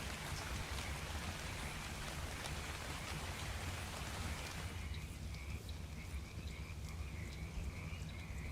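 Steady rain pours down in a modded Ark Survival Evolved game, with frogs croaking throughout; a high insect-like trill joins midway as the dense patter continues evenly and fairly faint, with no talk over it.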